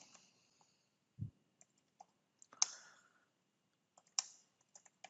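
Sparse typing on a computer keyboard, a handful of quiet, close, irregular key clicks and taps spread across a few seconds with silence between, with no talking.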